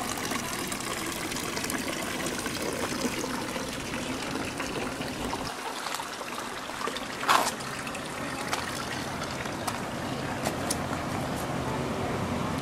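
Water trickles steadily from a small natural grotto fed by a raceway in gardens in Rome, a continuous close splashing flow with a brief louder splash partway through.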